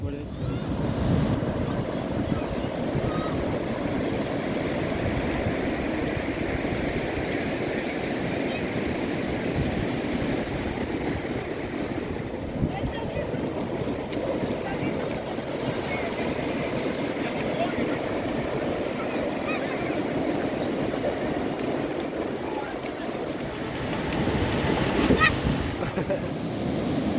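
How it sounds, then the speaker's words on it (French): Steady roar of sea waves and surf on a beach with wind buffeting, as a tractor backs into the waves to pull a small boat out; continuous, fairly distant wash with no distinct engine detail. "Il recule le tracteur jusqu'aux vagues pour sortir le petit bateau de l'eau."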